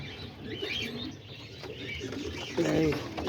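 Pigeons in a backyard loft coo and murmur nearby, soft low throaty calls repeating over rustling, with a louder burst of cooing near the end.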